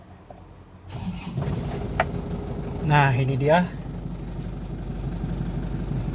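A 2009 Isuzu Panther LM diesel engine cranks and catches, then settles into a steady, rough idle; someone speaks briefly over the running engine.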